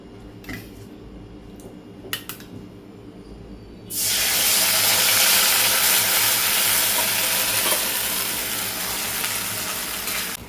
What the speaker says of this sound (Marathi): हा रवा आहे ना आपल्याला यामध्ये असा फ्राय करून घ्यायचा आहे